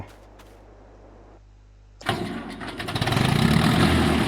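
In Farming Simulator 22, after a quiet hum, a farm tractor engine cranks and catches about halfway through, then settles into a loud, steady rumbling idle close by.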